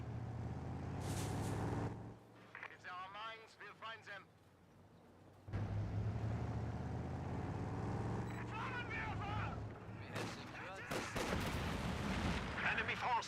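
A T-70 tank and a ZiS gun fire in the Company of Heroes 2 battle game, with loud booming shots and rumbling vehicle engines, interspersed with in-game unit voices.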